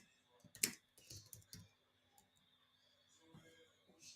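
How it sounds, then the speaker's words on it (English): Typing on a computer keyboard: a few sharp clicks in a short burst, then scattered quieter taps, close and alone in a quiet room. "I'm typing"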